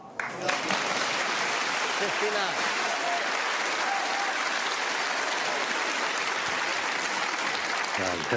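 Sustained, dense applause from a snooker crowd at the 2024 Tour Championship, loud and steady for several seconds after a shot, with a commentator's voice faintly underneath.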